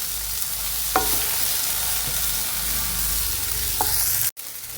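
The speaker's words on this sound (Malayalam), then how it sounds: "ഒരു ചെറിയ തക്കാളിയാണ് കേട്ടോ, അതുകൂടി നന്നായിട്ട് ചേർത്തതൊന്ന് വഴറ്റിയെടുക്കാം." Chopped tomato and onion sauté in a pan with a constant close sizzle, broken by a few scraping stirs of a spoon and a brief pause near the end, no speech.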